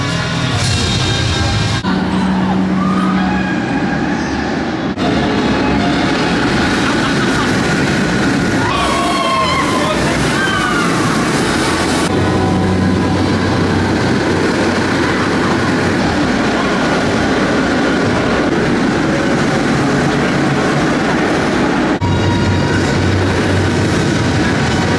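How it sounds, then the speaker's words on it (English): F.L.Y., a steel roller coaster at Phantasialand, running at night, fills the scene with a loud, continuous roaring rumble of the train on the track, with a few faint shrieks rising briefly above it. "F.L.Y. at night, one of the best steel coaster night rides"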